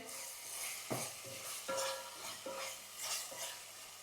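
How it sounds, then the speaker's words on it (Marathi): Yogurt masala gravy fries on medium heat in oil, a faint steady sizzle broken by several sharp spoon strokes against the pan at irregular intervals, close and quiet with no talking. "आता आपल्याला दही ना मीडियम गॅस करून असं तेल सुटेपर्यंत फ्राय करून घ्यायचे"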